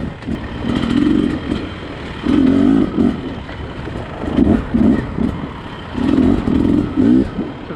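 A 2020 Beta 300 RR two-stroke dirt bike is ridden at a brisk pace on a slick trail, its engine loudly rising and falling in repeated bursts of throttle with clattering in between.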